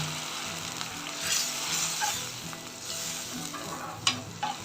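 Vermicelli roasts in a hot pan with a continuous crackling sizzle, broken by light scrapes and stirring, including a sharper clack toward the end; no talking.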